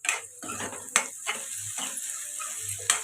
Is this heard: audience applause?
no